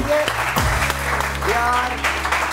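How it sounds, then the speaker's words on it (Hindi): A studio audience on a Pakistani morning show claps in a short burst while a voice talks over the applause. "यार इस बात पे तालियां बजाएं"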